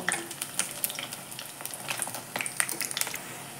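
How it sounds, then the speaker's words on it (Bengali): Green banana koftas frying in oil on low heat, a soft background sizzle broken by many quick crackles and light pops scattered unevenly, close but fairly quiet. "কোপ্তাগুলো ভাজার সময় কিন্তু গ্যাসের আঁচটা একদম লোতে রেখেই ভেজে নিতে হবে"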